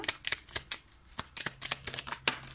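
Tarot cards drawn and handled during a reading, a close series of quick papery flicks and slides with irregular pauses, no voices.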